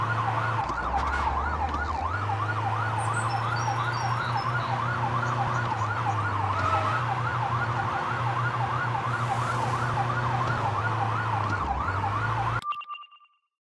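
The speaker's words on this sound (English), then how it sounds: "turning on the sirens" Police car siren wailing steadily and loudly in the Police Simulator: Patrol Duty video game, a continuous rising-and-falling tone over a low engine hum, cutting off abruptly near the end.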